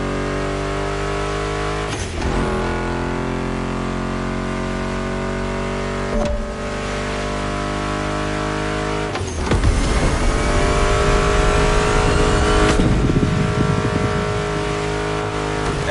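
Car engines revving in The Crew Motorfest racing video game: loud rising engine whines, broken by sharp gear-change drops every few seconds, turning rougher and louder in the last stretch.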